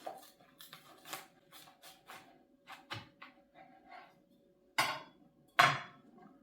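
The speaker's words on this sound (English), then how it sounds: "We just pulled our grown-up grilled cheese off. I'm going to cut it." A knife cuts through a crusty, freshly griddled grown-up grilled cheese sandwich. Light scraping and clicks come first, then two loud, close crunches near the end.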